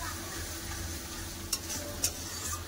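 Mustard and poppy seed paste being sautéed and stirred in a pan for a Bengali rohu fish curry: a steady, quiet sizzle with two brief scraping clicks from the spatula.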